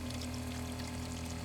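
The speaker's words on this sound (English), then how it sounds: "we're going to turn on the machine to flush the pump out" A Buon Vino Super Jet wine filter pump runs while water is flushed through it, giving a brief steady hum with a watery rushing wash, close and continuous.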